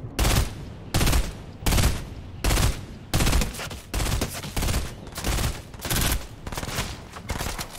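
Repeated bursts of gunfire in the video game Fortnite, about seven loud separate volleys in a steady rhythm, each with a brief pause between, with no talk.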